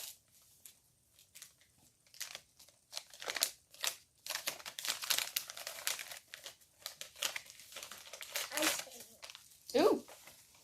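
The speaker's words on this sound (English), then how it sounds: "and she opened the presents." Christmas presents being unwrapped, with bursts of crinkling and tearing paper and plastic wrap close by, irregular and fairly quiet, while people talk and react softly in between.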